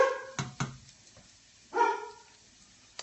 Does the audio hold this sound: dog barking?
yes